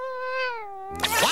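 A cartoon reindeer imitates a cat with one long, clear, drawn-out meow that falls in pitch, then ends in a brief noisy burst.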